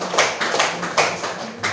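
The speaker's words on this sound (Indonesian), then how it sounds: "bagus, tepuk tangan dulu" A classroom breaks into brief applause, several bursts of hand clapping close by, loud and uneven across under two seconds, with no talking.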